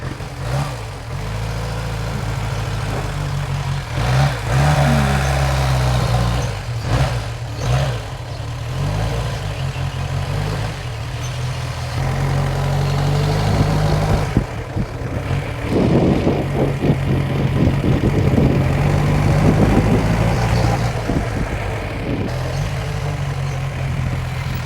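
1929 AJS inline four-cylinder motorcycle engine running steadily, a loud, close, throbbing idle that rises briefly with revs partway through.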